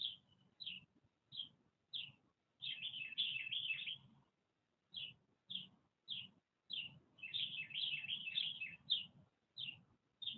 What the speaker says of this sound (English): Noticing all the bird sounds around you through your ears